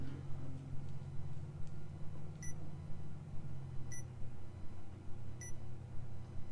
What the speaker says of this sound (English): A strange beeping sound broke Minorikawa out of his writing reverie